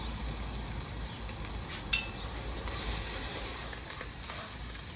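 Celery and parsley frying in a pot for Guyanese fried squash, a soft steady sizzle with a single sharp clink partway through.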